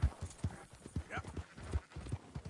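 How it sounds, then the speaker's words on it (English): Horse hooves clip-clopping in a PS4 video game, a quick uneven rhythm of soft thuds close by, with brief voices and a faint whinny mixed in. "Get a hold of that horse, will you?"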